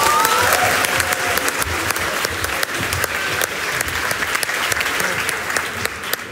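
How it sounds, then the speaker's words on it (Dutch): Students at a national school debate event give loud, sustained applause, a dense steady wash of clapping filling the hall from start to finish. "En dan mogen de leerlingen die de stelling gaan introduceren ook weer een heel hard applaus van jullie ontvangen"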